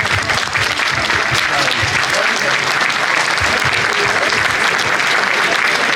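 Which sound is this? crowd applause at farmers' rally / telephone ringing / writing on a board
crowd applause at farmers' rally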